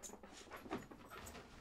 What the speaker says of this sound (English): That's my dogs play fighting.